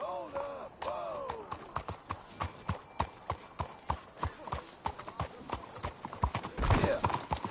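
Horses gallop in Red Dead Redemption 2, a Western video game, with loud, rapid, evenly spaced hoofbeats close by. Brief whinnies and game music sit under the hooves, and a rushing swell comes near the end.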